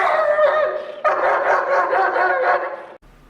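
Protection dog barking at a stranger in public, a near, loud run of rapid overlapping barks and yips lasting about three seconds before stopping abruptly.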